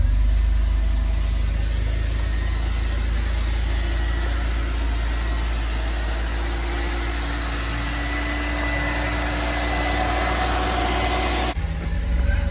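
Mercedes 190E W201 engine idling just after starting, a steady, close, low rumble holding even for the whole stretch with no voices, ending in a brief shift near the end.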